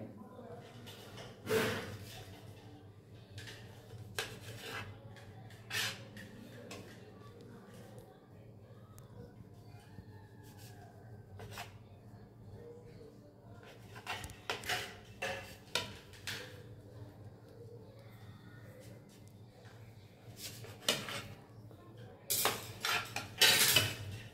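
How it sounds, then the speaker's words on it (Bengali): A knife saws through a loaf of bread in a home kitchen, with scattered scrapes and clinks against a board or plate, irregular and fairly faint, with a few louder clatters toward the end. "পাউরুটিটা সুন্দর করে এই সাইডে লাল লাল এইগুলান সুন্দর করে কেটে নিতে হবে।"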